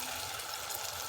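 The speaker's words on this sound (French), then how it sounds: "je mets, vous voyez, une quantité de l'eau parce que je vais pas faire grosse sauce" Water being poured into a pan while making tomato sauce for dorade fish, a brief, soft, steady rushing pour.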